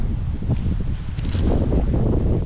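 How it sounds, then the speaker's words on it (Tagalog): Strong wind roars and buffets steadily in Finland, with a low rumbling rush and faint rustling throughout, loud and continuous. "kalakas sa hangin"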